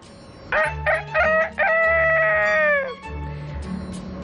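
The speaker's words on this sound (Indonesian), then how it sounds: "Keesokan paginya, mereka berdua berkokok." A rooster crows loudly and close by in a long drawn-out call, preceded by a few short harsh bursts, then quieter background noise.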